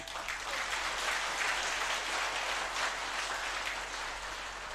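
Dense, steady applause from an audience at a spiritual court gathering, a broad continuous wash of many hands clapping at moderate level with no voices standing out.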